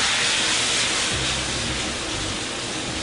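Steady broadband hiss of a hot pan being deglazed, a continuous sizzling steam wash that holds loud and even throughout with a faint low rumble underneath and no talking.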